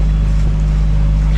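A sailboat motors along under engine power near forested hills, giving a steady, loud low drone mixed with wind rush on the microphone and no pauses.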